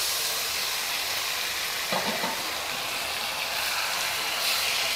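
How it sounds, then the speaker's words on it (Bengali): Chopped bottle gourd fries in a pan for a Bengali lentil dish, giving a steady, loud sizzling hiss throughout, with a brief clatter of stirring in the middle. "লাউটা আমি ভেজে নিচ্ছি, আর আমি একটু ঢেকে দেব।"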